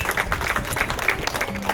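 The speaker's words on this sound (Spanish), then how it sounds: "para quien pido fuertes aplausos, por favor" Guests at a house celebration applaud in a steady, dense patter of clapping that fills the room at moderate volume, with a faint low tone joining near the end.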